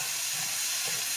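Chicken and onions fry in a pan with a steady, close sizzle, with soft stirring scrapes toward the end of the short stretch.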